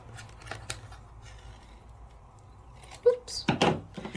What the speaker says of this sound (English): I'm going to cut me a piece of this